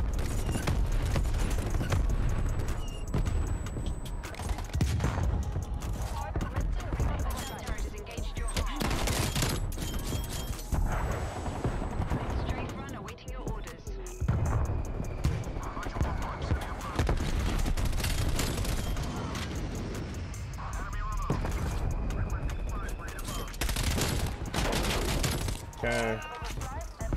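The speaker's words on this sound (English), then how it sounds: "Incoming artillery." Incoming artillery fire in a Call of Duty multiplayer match, a loud continuous barrage of blasts and gunfire that fills the whole stretch, with a voice talking over the dense, chaotic battle noise.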